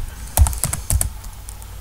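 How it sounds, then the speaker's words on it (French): Someone types VirtualBox on a computer keyboard, producing a short, close burst of crisp, uneven keystroke clicks with no talking. "Vous allez taper VirtualBox."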